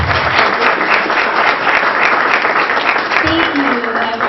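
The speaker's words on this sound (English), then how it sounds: "Let's give a big round of applause for Lightstar." Loud, close audience applause at a gathering celebrating an energy worker and artist, steady dense clapping throughout with a voice briefly audible over it.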